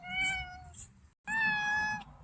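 A cat meows twice up close, two clear drawn-out tonal cries separated by a brief silence, with no talk.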